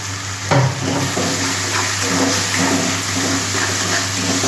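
Chickpea lentil paste hitting a hot pan for a Bengali banana-flower dhoka, giving a steady loud hiss and bubbling sizzle that runs throughout with a brief burst near the start, no voices.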